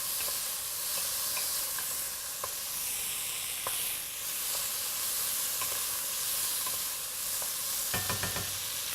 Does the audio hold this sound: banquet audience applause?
no